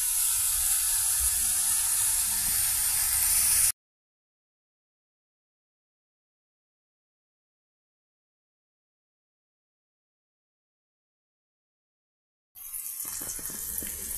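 Ridge gourd pieces with onion and curry leaves sizzle steadily in hot oil in a kadai, a loud continuous hiss that stops abruptly, then resumes after a long silence.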